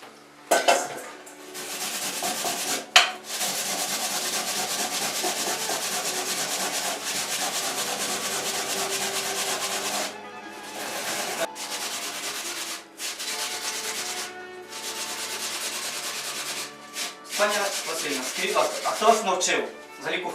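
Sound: grating vegetables on a hand grater

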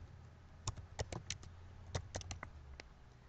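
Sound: typing text on a computer keyboard

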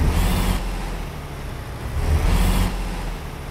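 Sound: truck engine idling in American Truck Simulator video game

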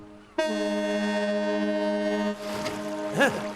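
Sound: foghorn

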